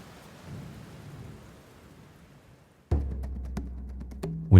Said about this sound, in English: During the night, a heavy thunderstorm blew across Lawrence County